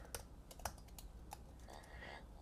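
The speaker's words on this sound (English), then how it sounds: "Now I'm typing," Keys clatter on a keyboard while a user types replies to a chat app on an Apple Vision Pro, a few faint, scattered clicks with short pauses between them, quiet and close.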